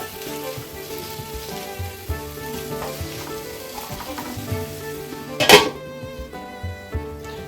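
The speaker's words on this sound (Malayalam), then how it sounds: "അപ്പോൾ തക്കാളിയൊക്കെ നല്ലോണം വെന്ത് അരിഞ്ഞ് വരും." Tomatoes cooking in a covered pan give a soft, steady sizzle and bubbling close by, with a short clatter partway through over a faint background of music.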